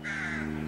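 A single loud crow caw close by, lasting under a second, heard alone at a canal bank during a spring bream fishing trip.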